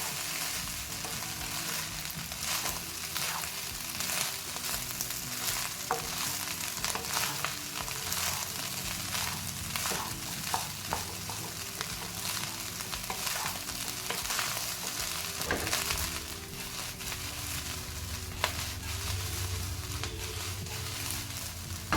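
Fish fried rice is stir-fried over a high flame, a continuous hissing sizzle with irregular scraping and tossing clatter and a low burner hum throughout, close and without speech.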